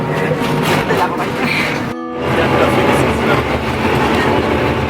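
Steady rumbling of a tram rolling along rails, loud and close, with a brief drop in noise partway through.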